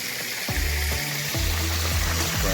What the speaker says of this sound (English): here we go now with the frying process